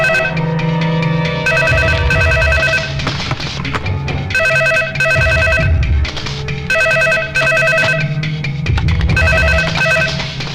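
A telephone rings repeatedly with a melodic electronic ringtone, loud and close, its bursts recurring in a steady pattern over low background sound, with no speech.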